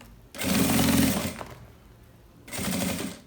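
Sewing machine stitching fabric while assembling a blouse organizer, two loud bursts of rapid mechanical stitching separated by a pause, close and alone without talk.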